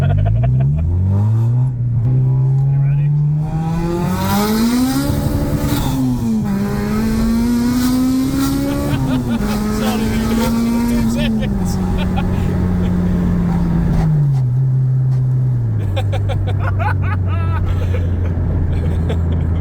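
A loud straight-piped Honda DC5 Integra Type R engine revs steadily with a rising and falling exhaust drone, raw and brassy, while a person speaks briefly over it.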